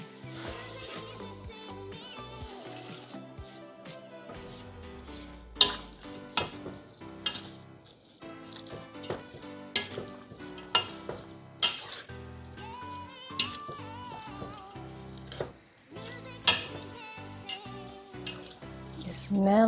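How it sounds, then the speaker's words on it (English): Cabbage and mixed vegetables are stir-fried in a pan for pancit canton with rice vermicelli, giving a steady sizzle broken by repeated sharp scrapes and clanks of the utensil against the pan, close and fairly loud, with no talking. "let's go ahead and add the cabbage."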